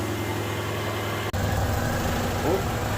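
A rebuilt Honda Civic EF engine idles steadily and close by, a constant low rumble with a brief dropout, while a person talks over it.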